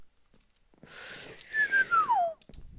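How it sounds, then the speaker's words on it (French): A person whistles a short, wavering tune in a Minecraft game session, a few quick notes sliding downward, fairly close, ending abruptly in quiet surroundings. "J'ai de la misère à siffler"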